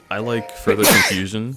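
A single sharp, explosive sneeze bursts out midway through relaxed conversation about furry conventions, with voices talking before and after it.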